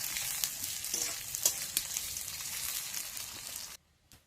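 Sliced onions fry in hot oil with a bright, crackling sizzle and scattered pops, heard close up, before the sound cuts off abruptly near the end; no one speaks.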